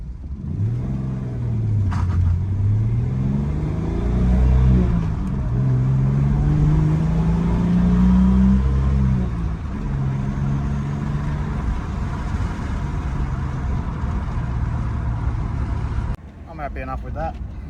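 EF Ford Falcon engine revving hard through rising and falling sweeps, trying to spin the tyres, loud and close throughout with a brief drop near the end.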